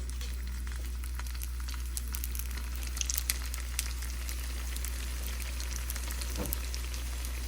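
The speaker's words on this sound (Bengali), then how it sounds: "এখানে তেল গরম হয়ে গেছে এক এক করে স্প্রিং রোলগুলো দিয়ে দেবো" Spring rolls fry in hot olive oil with a faint, scattered crackle over a loud, constant low electrical hum, with no speech.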